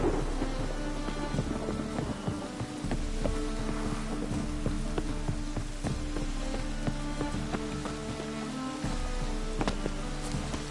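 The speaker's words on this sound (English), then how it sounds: "The storm, damn it." Steady heavy rain hisses continuously while low rumbles of thunder roll underneath, dense and unbroken throughout, in a video game thunderstorm in The Witcher 3: Wild Hunt.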